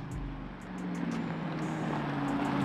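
A Lamborghini Urus Performante SUV pulls up nearby, its deep engine rumble and low drone swelling gradually louder over a few seconds, with no talking.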